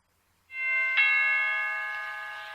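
A two-tone doorbell chime rings out clearly, a bright bell note followed by a second tone that hangs and slowly fades.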